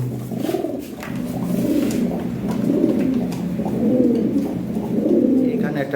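Lahori and Sirazi pigeons coo repeatedly in soft, rolling low calls, several birds overlapping at close range in a steady stream with no pauses.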